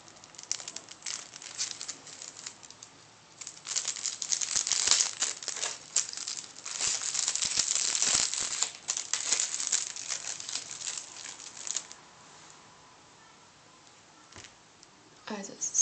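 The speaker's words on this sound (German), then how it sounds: "Jetzt wollte ich es mal auspacken und euch zeigen." Plastic packaging crinkles and rustles as a bone folder bought at a craft fair is unpacked, in bursts of close, dry crackling that fade out near the end.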